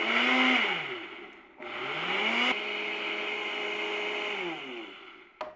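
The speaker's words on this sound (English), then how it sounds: "So put it in your blender like this." A kitchen blender whirs through banana and peanut butter, its motor rising and falling in pitch as it starts, dips, restarts and runs steadily before slowing to a stop, loud and close with no talking.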